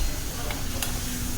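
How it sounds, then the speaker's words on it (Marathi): Fish curry masala sautéing in oil in a pan, a close continuous sizzle with a couple of faint ticks from stirring. "5-6 मिनटं तेल सुटेपर्यंत आपल्याला परतत राहायचं आहे."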